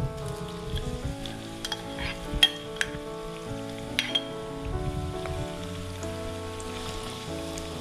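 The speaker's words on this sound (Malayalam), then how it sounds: "എണ്ണ ചൂടായി വരുന്നുണ്ട്. നമുക്ക് ഇതിലേക്ക് ഈ സവോള ഇടാം." Thinly sliced onions, three of them, frying in hot oil for chicken chukka: a soft continuous sizzle under steady background music, with a few brief clinks and crackles.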